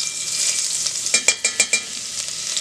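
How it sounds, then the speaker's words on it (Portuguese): Garlic sizzles in a pan with pork fat, a constant bright frying hiss broken midway by several sharp quick scraping stirs, close and alone without talk. "Aqui tá um pouquinho de alho que eu vou colocar na panela agora."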